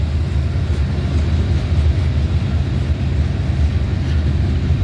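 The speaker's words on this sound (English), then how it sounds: "Train headed up the hill." Cement-car freight train climbing a grade, a steady low rumble and rolling drone holding evenly at close range throughout, with no voices.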